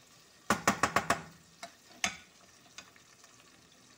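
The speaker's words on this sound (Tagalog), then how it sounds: "haluin ng mabuti." Chicken and rice kabsa with potato stirred in a pan over slow heat, a quick run of five scraping knocks followed by a few scattered scrapes against a faint low sizzle, close up with no talking.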